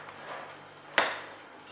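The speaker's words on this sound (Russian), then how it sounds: "Перемешиваю я до грубого состояния." A spoon works coarse whole wheat muffin batter in a bowl, with soft mixing scrapes followed by a single sharp clink against the bowl near the middle, close and fairly quiet.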